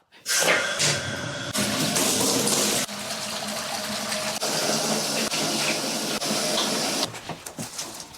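Water gushes steadily from a tap into a bath being filled to soak a monstera plant, a loud continuous rushing that holds through most of the stretch and then tapers with some splashing.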